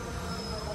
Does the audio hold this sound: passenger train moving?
yes